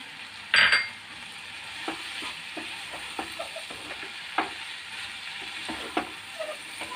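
About 200 grams of chicken sizzles in a pan while being stirred, with a loud clatter at the start followed by repeated scraping and knocking strokes over a steady frying hiss.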